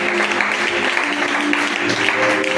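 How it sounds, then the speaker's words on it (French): A crowd claps together at a religious seminar, a dense, loud, steady wash of applause filling the hall for a few seconds, with a faint tone carrying beneath it. "Est-ce qu'on peut acclamer encore une fois?"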